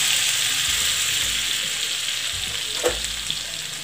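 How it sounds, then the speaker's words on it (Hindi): Garlic sizzling in melted butter with a little oil in a pan, a steady loud frying hiss close by with a brief stir, and no voices. "बटर मेल्ट हो गया है, तो अब इसमें हम लहसुन डाल देंगे"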